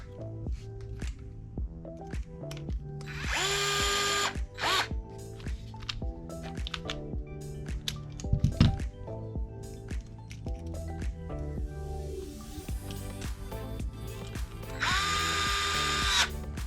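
A small power drill drives short screws into a plastic transmission case on a budget build, giving two loud bursts of whirring that wind up and stop, with faint clicks and handling noise between.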